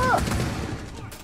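Rapid bursts of video game gunfire crackle loudly through a chaotic multiplayer match, with a brief tonal game cue near the start and players' voices underneath.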